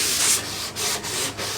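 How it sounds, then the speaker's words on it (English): A fine sanding block rubs over a painted wooden desk in short back-and-forth strokes, giving a steady close hiss with brief pauses between passes. "I'm just gonna give it a sand with a fine sanding block."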